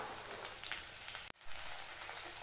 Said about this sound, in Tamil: வெண்டைக்காயை நல்லா வதக்கிட்டே இருங்க எண்ணெயில்